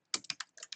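Quick keystrokes on a computer keyboard, about seven close, crisp clicks in a short irregular burst.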